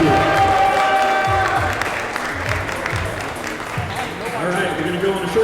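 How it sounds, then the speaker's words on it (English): An audience at the Texas state championships for League of Legends cheers and applauds the winning team, loud dense clapping with shouts that fades slightly then swells again. "Thank you so much to everybody for cheering for our teams."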